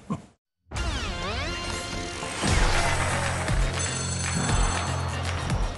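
A telephone bell rings for the Phone a Friend lifeline on Who Wants to Be a Millionaire, a loud, insistent trilling ring that begins after a short silence and continues over a dramatic studio music sting.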